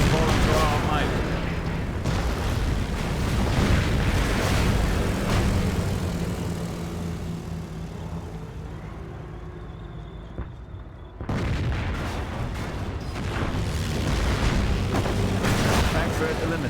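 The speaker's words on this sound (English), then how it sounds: "Henschel aircraft will fly by the target location, targeting all enemies within their flight path" Henschel aircraft in Company of Heroes roar over a target on a strafing run, a loud sustained rumble of engines and booming fire that fades briefly near eleven seconds before surging back, with talk over it.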